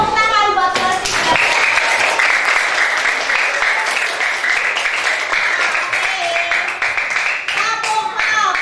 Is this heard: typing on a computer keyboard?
no